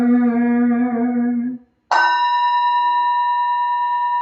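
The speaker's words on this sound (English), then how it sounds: "Here is the after sound of the bell." A steady humming tone breaks off, and after a short silence a large Zen Buddhist temple bell at a Sunday service in Ann Arbor is struck once, loud and near, its rich ringing tone sustaining with barely any decay.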